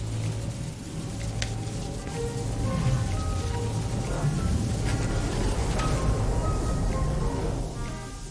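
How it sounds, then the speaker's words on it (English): Steady rain patters and hisses in the video game Kingdom Hearts III, a constant even wash of falling drops that swells slightly midway, with no voices over it. "It's raining over here."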